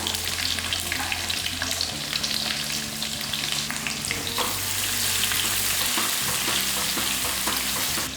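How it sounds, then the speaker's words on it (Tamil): Small shallots and garlic frying in hot oil for a fish curry make a steady, dense sizzle with faint stirring scrapes, close and continuous throughout with no voices. "ஒன்றரை கைப்பிடி அளவுக்கு சின்ன வெங்காயம் போட்டுக்கோம் பூண்டு வந்து ஓரளவுக்கு பொறிஞ்சதுக்கப்புறம் இதை சேர்க்கணும்"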